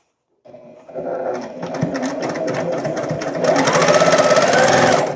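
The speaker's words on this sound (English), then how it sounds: "So if I just go along and I match up my ends here and start sewing" A sewing machine stitches matched fabric ends for a woven dolman dress. Its whirring motor hum runs continuously and rises louder partway through, close and with no talk.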